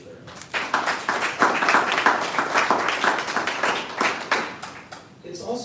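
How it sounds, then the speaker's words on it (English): A round of applause from an audience at an innovation and entrepreneurship center announcement, steady crisp clapping that swells and then tapers off toward the end. "So I'd like to give everybody a round of applause for their"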